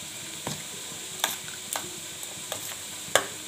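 Salt, cumin and coriander powder being stirred into a potato curry for aloo dum, a soft background sizzle broken by a handful of scraping spoon strokes against the pan, close and alone.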